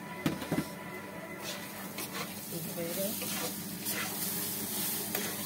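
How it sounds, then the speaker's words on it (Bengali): Rice fries for pulao in a pan with a soft, steady sizzle and hiss, broken by a few sharp clinks and stirring sounds. Someone speaks at times over the cooking noise. "চালটা ভাজা ভাজা হয়ে গেছে"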